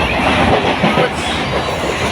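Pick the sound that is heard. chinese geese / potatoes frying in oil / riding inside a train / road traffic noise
riding inside a train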